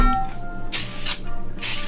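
Pam flour cooking spray hisses into a cake pan in three separate bursts, each a short, close, bright spray with quiet pauses between, no talking over it.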